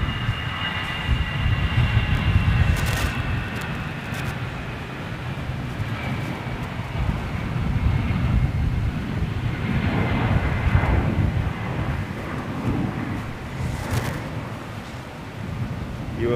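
A CF6-powered jet airliner passes at London Gatwick, its engine roar rising and falling steadily as a broad, continuous rumble with a whining tone over it, heard from a moderate distance.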